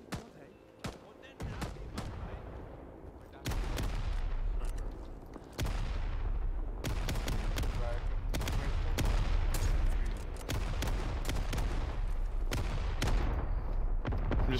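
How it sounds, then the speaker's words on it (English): Gunshots in Rising Storm 2: Vietnam, a few sparse cracks at first, then heavy rolling volleys and rapid fire with booming low rumble, loud and close, with a voice talking at times. "I'm just trying some pot shots at this healer."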